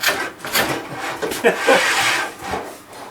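A manual tile cutter, either a Haisser 1200 Industry or a Shijing 3051, scores ceramic tile with close, loud, rasping scrapes that rise and fall over a few seconds.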